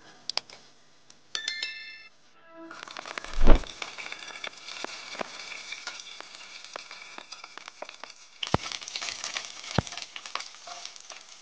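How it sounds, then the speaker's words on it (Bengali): Almonds, cashews and raisins fry in a pot of hot oil for an Arabian chicken kabsa, giving a steady close sizzle after a few clinks, with a brief louder burst and crackles later. "এতে আমি কিছু ড্রাই ফ্রুটস ভেজে নিব।"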